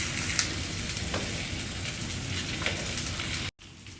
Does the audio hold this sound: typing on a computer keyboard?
no